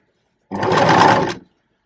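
Close, steady whir of a sewing machine stitching a zipper onto a skirt waistband, one continuous run of about a second that starts and stops abruptly.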